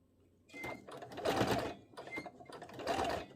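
A sewing machine stitches fabric for a lace-trimmed placemat, with short bursts of rapid mechanical whirring and rattling separated by brief pauses, close and fairly quiet, with no talking.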